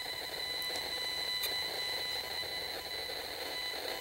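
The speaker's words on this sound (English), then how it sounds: "I only hear a faint sound of a cell tower in the distance." An RF meter's speaker gives off a steady, faint buzzing hiss from a distant cell tower, with a thin high whine and occasional soft clicks, continuous and without speech.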